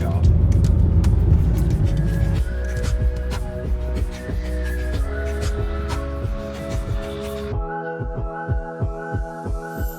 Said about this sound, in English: driving in a tunnel as part of the Stelvio Pass, that iconic road that Top Gear, etc. use in all the car adverts